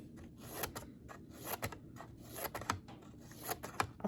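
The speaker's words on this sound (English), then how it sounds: "I'm just gonna go in and snip between each one" Scissors snipping paper between symbols, a quick series of close, crisp cuts with short pauses between them, quiet and without talking.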